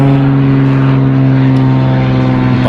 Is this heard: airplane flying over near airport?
yes